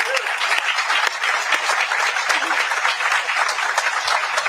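An audience gives the mayor a round of applause at a university engineering-school building announcement, sustained dense clapping from a crowd that holds steady throughout.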